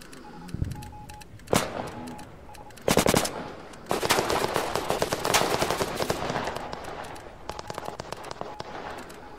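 Shots ring out in the war game Fog of War, from isolated loud cracks early to a dense stretch of rapid automatic fire, then scattered pops trailing off, all close and loud with no voices.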